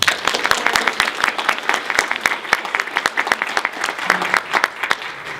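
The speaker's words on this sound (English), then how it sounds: "Why don't you join me in a round of applause for Nancy Philpar." A live audience at an organization's annual meeting bursts into steady, dense applause, many hands clapping close and loud throughout with a lively, irregular texture.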